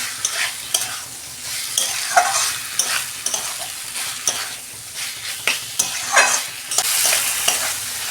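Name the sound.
vegetables frying with hilsa fish head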